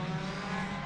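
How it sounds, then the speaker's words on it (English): Race cars roar at Sebring in a loud, sustained engine drone that holds steady for about a second, with no voices. "These are some loud cars, man, let me tell you."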